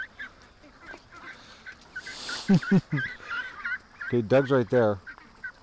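Ducks quack and honk in short nasal bursts, loud and close, with a voice speaking briefly between them.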